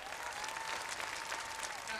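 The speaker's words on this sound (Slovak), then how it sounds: "vy si zaslúžite veľký potlesk" Audience applause for a game show contestant: dense, steady clapping from a studio crowd, moderately loud and continuous throughout.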